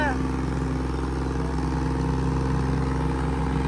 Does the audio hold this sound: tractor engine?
yes